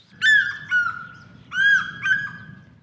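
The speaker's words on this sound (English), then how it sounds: "Cheeky bird." A bird calls in South African bush, giving two pairs of loud, honking, slightly wavering cries close by, with a short pause between the pairs.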